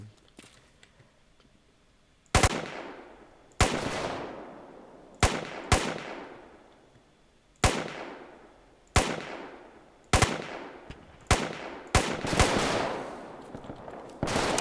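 Gunfire in the Roblox war game Guerre de l'Est: about a dozen loud, sharp single shots spaced irregularly, each with a long ringing decay, over a faint background.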